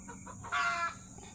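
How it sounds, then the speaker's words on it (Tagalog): A hen clucks in a short burst at close range, a single loud squawking cluck over a low rural background hum, with no talking. "Nagpuputak yung manok."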